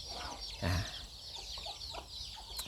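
Chickens clucking in a backyard coop, a few short soft clucks close by with one louder burst, set against low outdoor background noise.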